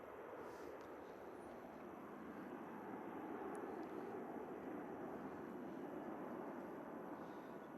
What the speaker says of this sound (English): Wow, such a smooth takeoff.